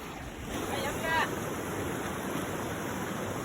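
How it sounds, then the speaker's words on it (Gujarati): A river flows near a hill trail in Gujarat, producing a steady broadband rush of water mixed with wind buffeting the microphone, continuous and fairly close, with no voices. "નદીના નીર"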